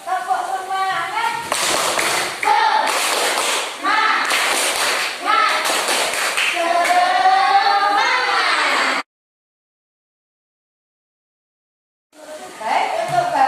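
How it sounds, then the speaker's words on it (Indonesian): A school class claps a rhythmic chant pattern together in a classroom, loud sharp bursts of clapping mixed with children's voices chanting, then a pause before more clapping resumes. "sebelum kita mulai kita bertepuk semangat dulu. Tepuk semangat."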